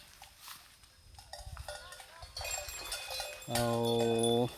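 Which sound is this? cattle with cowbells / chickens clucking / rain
cattle with cowbells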